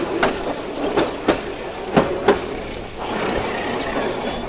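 Dolonchapa Express train running between Santahar and Rangpur in Bangladesh, with a steady rumbling roll and several sharp rhythmic clacks of wheels over rail joints, loud and close from on board.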